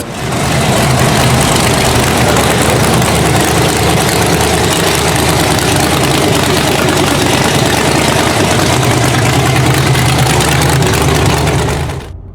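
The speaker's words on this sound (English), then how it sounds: "There it is, folks, the nastiest, most powerful rock bouncer ever built" A 1600 hp rock bouncer off-road buggy sits idling nearby. Its loud, steady, rumbling engine drone holds unbroken for about twelve seconds with no voices.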